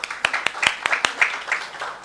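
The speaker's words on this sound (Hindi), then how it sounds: "एक बार श्रुति के लिए ताली बजा देंगे और उसके पहले वाली छोरी के लिए भी ताली बजा देंगे" Students clap together in a class, a short burst of uneven, sharp hand claps at close range mixed with light murmuring.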